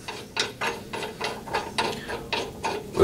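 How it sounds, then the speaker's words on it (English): A ratchet wrench loosening a bolt on a Hyundai HYM510SPER electric key start roller lawn mower: repeated close, sharp clicking bursts in an even back-and-forth rhythm, about seven strokes, with no talk. "we'll finish undoing the bolt"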